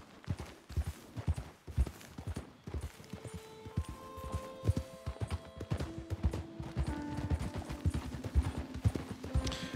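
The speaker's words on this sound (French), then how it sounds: "Ah, ils appellent Michel les chevaux, là." Horse hooves clip-clopping in Red Dead Redemption 2, a steady, fairly faint rhythmic patter of hoofbeats continuing throughout, with soft background game music tones layered in.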